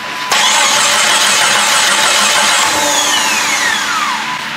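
A Jeep Grand Cherokee turbo engine that is out of fuel cranks without firing, giving one continuous loud starter whir up close that slowly winds down over several seconds.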